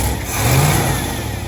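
A 1955 Imperial's engine revving without an accelerator pump, a brief rising and falling mid-pitched roar heard up close for about a second and a half, with no voices.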